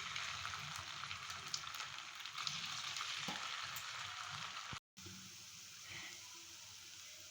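Chire-date pithas of flattened rice and date jaggery sizzling in hot oil in a pan on a low gas flame, a dense, steady crackle close by, with a brief break before the frying continues a little softer.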